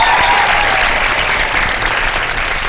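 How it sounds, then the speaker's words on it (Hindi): Studio audience applause on a Pakistani Ramadan transmission show, a steady wash of clapping that holds at full strength for the whole stretch, with no talking over it. "तालियां बजा दे तो मैं सवालात का आगाज करूं"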